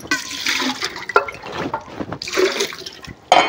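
Water pouring into a bucket in a village dairy shed while preparing to milk a buffalo, a broad splashing rush that surges and fades in bursts, close and fairly loud, with no talk.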